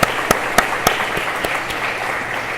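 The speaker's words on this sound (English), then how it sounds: "let's give one more round of applause for Veritex Bank and all of our sponsors today" Audience applause at a manufacturing day event, a steady wash of clapping with a few sharp louder claps standing out over the first second, continuing evenly throughout.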